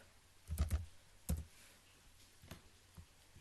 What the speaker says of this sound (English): So after opening, just type WhatsApp web.